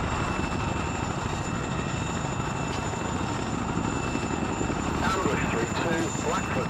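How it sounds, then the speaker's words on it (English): An attack helicopter approaches in the military game Arma 3, with a steady, dense rotor and engine roar throughout and speech over it. "that's an attack helicopter coming in"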